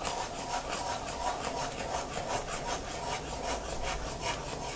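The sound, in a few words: stirring and roasting wheat flour in ghee for halwa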